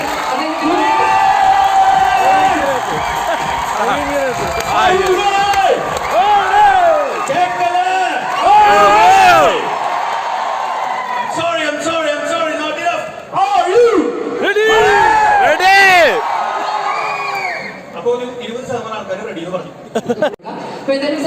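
A crowd at a live event cheers, whoops and shouts to welcome a speaker onto the stage, with a loud, continuous roar of excited voices and scattered yells that swell and dip over about twenty seconds.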